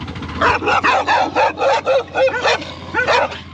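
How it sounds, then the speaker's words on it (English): Several guard dogs bark excitedly at a passing vehicle on a road through a Bolivian military zone, a rapid run of close, loud barks and yips with some whimpering, no talk. "Bunch of guard dogs following down, try to drive off. These guys are just gonna go crazy."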